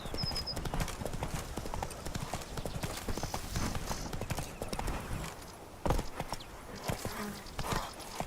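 Roach, the horse in The Witcher 3 video game, trots with a steady, rapid clip-clop of hooves, close and continuous, with a brief louder thump partway through and faint ambient game sounds behind.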